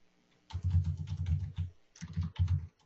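Fingers typing on a computer keyboard while writing HTML and CSS code, two close bursts of rapid clicking keystrokes separated by a short pause, with no talking.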